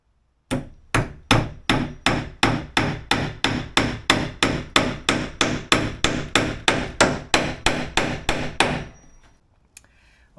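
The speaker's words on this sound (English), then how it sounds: "let's drive this last nail in the foot right here" A hammer drives a nail into the wood foot of a DIY pickleball backstop with a long steady run of about twenty loud, evenly spaced strikes, alone with no talk, then one faint knock after a pause.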